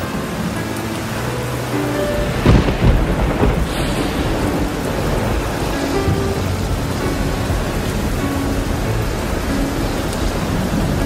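Steady heavy rain pours throughout, with a deep rumble of thunder rolling in a few seconds in and fading into the downpour.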